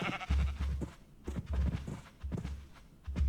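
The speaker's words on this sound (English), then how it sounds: "Entity sheep ambient." Sheep in a video game bleat several times in short, repeated calls, fairly loud and close, with brief pauses between them.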